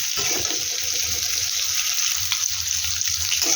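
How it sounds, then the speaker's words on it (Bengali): Boiled eggs frying in hot oil in a pan for an egg curry, a steady hissing sizzle that runs throughout, close and moderately loud, with no talking. "এটা হালকা 3 থেকে 4 মিনিট এটাকে একটু ভাজা করে দেবো"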